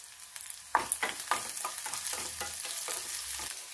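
Onions with two dried red chillies sauté in a pan, with a steady sizzle and rhythmic scraping stirs close by and no talk.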